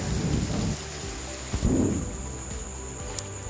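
Chicken meat drops into a pan of hot spiced masala for chicken curry, setting off a loud crackling sizzle with bursts of hissing and spattering that swell and settle over a few seconds.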